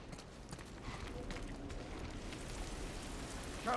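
Steady rain falls in a video game set in the rainy outskirts of a city in The Last Of Us Part 1, a dense even hiss that continues throughout with no voices.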